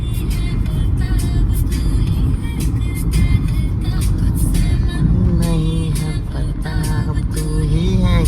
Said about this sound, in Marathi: कोलाड शहरामध्ये थोडं हे आहे ट्रॅफिक.